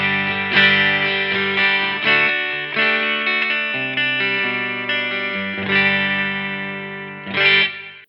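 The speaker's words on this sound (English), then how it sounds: "I'm going to be on the bridge single coil, which sounds like this." Electric guitar played on a Schecter Nick Johnston's bridge single-coil pickup through a Blackstar amp, sounding a series of bright, sustained chords and notes with effects, close and loud, with no talking.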